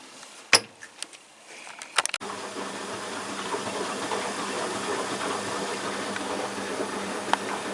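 A washing machine fills with water after a few clicks and knocks, a steady broadband rushing hiss starting at two seconds and running evenly to the end, close by, with no talk.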